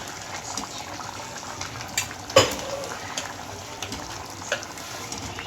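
Chunks of potato and brinjal go into a pot of sprouted horse gram sambar and get stirred: a few soft splashes and clunks, with one sharper thump, over a low steady hiss.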